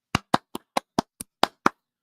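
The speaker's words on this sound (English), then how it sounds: "Give this lady some applause" Applause on a talk show, heard as eight crisp, separate hand claps in a quick, even rhythm, close and distinct against silence, with no crowd or talking around them.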